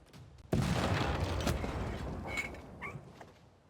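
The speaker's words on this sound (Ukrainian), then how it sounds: "Постріл." A single heavy gunshot-like blast in Civilization V bursts in, followed by a long rumbling decay with faint mechanical clinks as it fades.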